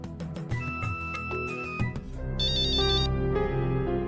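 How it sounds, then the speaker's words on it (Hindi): Telephone ringtone in a Hindi TV drama scene, a bright repeating electronic melody that grows louder and fuller after the first two seconds, with no talk over it. "अंकिता, मुझे अभी एडिटर साहब का फोन आया था।"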